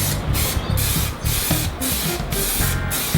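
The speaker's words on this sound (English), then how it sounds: "I'm going to do one last spray of black" Black spray paint hisses from an aerosol can onto a guitar body in several short, loud bursts separated by brief pauses, close and harsh.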